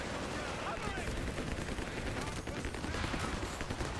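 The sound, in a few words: grenade explosions and gunfire in video game Company of Heroes 3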